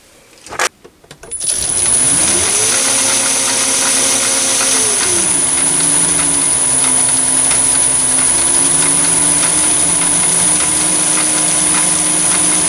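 After a few sharp clicks, a Chinese mini lathe motor spins up to about 400 rpm for parting off aluminium with paraffin, a loud, steady whirring hum with a thin high whine, its pitch shifting slightly.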